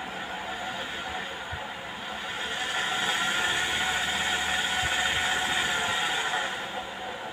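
An electric motor driven by a Curtis 1243 controller runs in reverse, giving a steady close whirring hiss that swells in the middle and then eases back.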